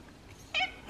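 A white-and-red kitten gives one short, faint meow in a quiet indoor room, with a bit of rustling just after.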